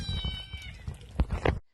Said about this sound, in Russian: Ой, там котята.